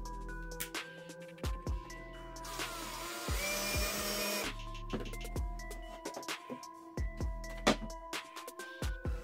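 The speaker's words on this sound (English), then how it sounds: "I will use an electric jigsaw to cut all the pieces." An electric jigsaw whines with stop-start bursts of cutting wood, its motor revving and pausing, one sustained harsh stretch in the middle, interspersed with clunks of handling.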